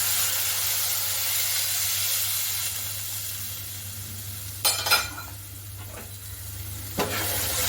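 Sour buttermilk goes into a pan of sautéed onions, giving a steady close sizzle and hiss throughout, with a few sharp utensil clinks against the pan near the end.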